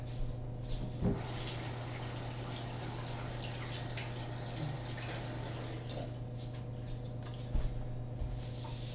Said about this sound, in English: Now, just gonna wash my hand.